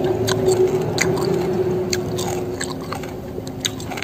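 Chewing a spicy Thai water spinach salad (tam phak bung) close to the mic, with steady wet, crunchy bites and mastication throughout, loud and continuous with a faint background hum.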